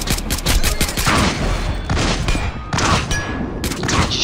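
Rapid gunfire from the stealth shooter Splinter Cell Blacklist, loud bursts of automatic shots in quick volleys with brief gaps between them, close and dominant.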